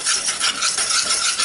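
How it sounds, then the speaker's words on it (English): A whisk works flour into a sauce for a fish pie, giving a steady, close, scratchy swishing that continues without any voices. "the most important thing here is a whisk"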